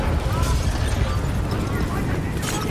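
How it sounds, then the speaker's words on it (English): Explosions rumble across a facility in the Call of Duty Black Ops 3 campaign, deep continuous booms and bursts with debris crackle, loud and dense, with voices talking over them. "we have multiple explosions across the facility"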